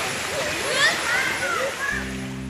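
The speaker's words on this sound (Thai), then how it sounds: "ฝนตกนะครับ" Rain falls outdoors at an old battlefield site, a steady broadband hiss running throughout while someone talks over it.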